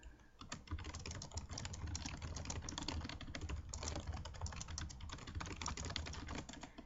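Computer keyboard typing into Storify, a rapid, steady patter of close keystrokes running continuously with no pauses.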